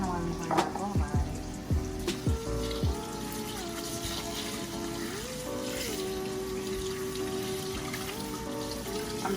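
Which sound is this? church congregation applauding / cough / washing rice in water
washing rice in water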